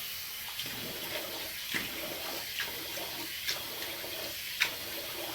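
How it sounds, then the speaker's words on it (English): Hot tap water running into a bathroom sink while a face is rinsed, a steady close splashing stream with small irregular splashes and drips breaking through, no talking. "Now all I do is rinse my face off with hot water as hot as I can bear."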